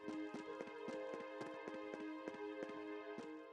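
Horses clip-clopping in Trails of Cold Steel II, near the academy field, a steady run of evenly spaced hoof clops, soft and close, repeating throughout with no talk.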